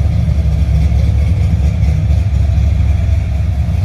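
A 1978 Chevrolet Silverado with a 383 V8 idles steadily, a loud, close, low rumbling chug that holds even throughout with no voices.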